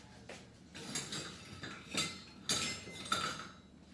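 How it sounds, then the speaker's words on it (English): A whisk beats flour, baking soda and salt together in a bowl, making repeated scraping clinks in uneven bursts at close range, with no voices. "And whisk that together."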